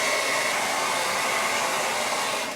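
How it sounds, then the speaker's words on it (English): A hair dryer blows steadily at close range, a constant loud rushing whoosh that runs without pause and eases slightly at the very end. "My hair dryer was all wrapped around."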